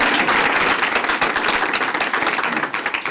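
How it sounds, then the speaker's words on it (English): Dense applause from a town council retreat audience honoring Elena fills the room, steady many-handed clapping that stays loud and unbroken with no voices rising above it. "Can we give Elena a round of applause?"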